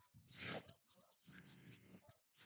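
A small dog named Leo whimpers and yips close by in a room, a few high whining cries that rise and fall over about two seconds, with faint talk in the background.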